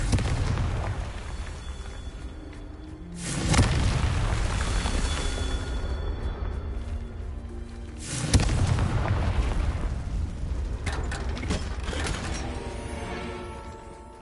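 Two heavy blasts from the Confringo fire spell in Hogwarts Legacy, each a loud sudden boom with a long rumbling tail, spaced several seconds apart and followed by crackling debris.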